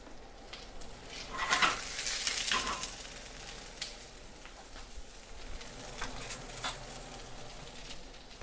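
Butter sizzling in a warm pan after cooking steak, a soft, steady crackle and patter with a brief louder hiss early on, quiet and close.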